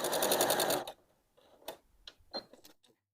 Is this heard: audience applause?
no